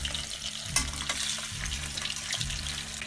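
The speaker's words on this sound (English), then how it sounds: "So as we are deep frying these florets of cauliflower" Cauliflower florets deep frying in hot oil over a high flame, giving a steady, close crackling sizzle with bubbling throughout and no talking.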